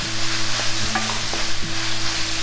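Spices frying in hot oil with tomatoes for a wedding-style potato curry, a steady close sizzle with a few light stirring knocks and scrapes in the pan; no talking.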